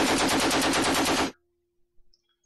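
A machine gun fires a rapid, loud burst of evenly spaced shots for just over a second in the World War II game Conflict of Heroes, then cuts to near silence.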